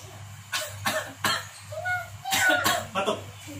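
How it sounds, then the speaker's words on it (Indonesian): Repeated coughing, several short harsh bursts spread across a few seconds, close by, with a steady low hum underneath. "Batuk."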